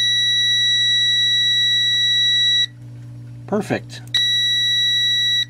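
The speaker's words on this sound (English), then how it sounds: "now if I touch these probes together, it should beep continuously" A Crenova auto-ranging digital multimeter gives a steady, piercing continuity beep as its probes touch. The tone cuts out briefly while someone says a word, then resumes just as loud.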